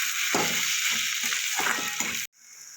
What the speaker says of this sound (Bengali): এবার আদা রসুনে যতক্ষণ না কাঁচা গন্ধটা যাবে ততক্ষণ আমি কষিয়ে নেব।